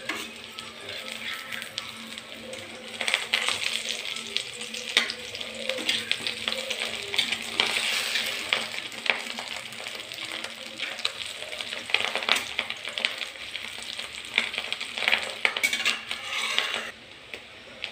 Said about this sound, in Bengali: এর ফলে ভেতর থেকেও সুন্দরভাবে ভাজা হবে পকোড়াটা